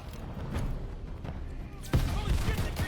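Heavy artillery booms from cannons in a Call of Duty: Vanguard battle, with a sharp loud blast near the middle and further thuds over a dense wash of gunfire and combat noise.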